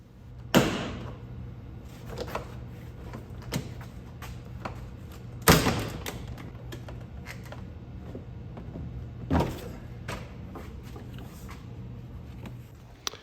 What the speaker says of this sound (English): We'll start with popping off the interior panels.